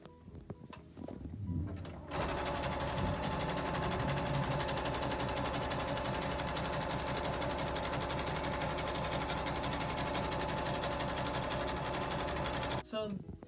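A serger stitches PUL fabric for a transport bag, running in one continuous, fast mechanical whir for about eleven seconds after a short quiet start, then stopping.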